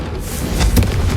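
A Confringo fire spell bursts in the Hogwarts Legacy video game, a loud low boom with a crackling burst at its peak, set over a continuous rumbling background that lasts the whole moment.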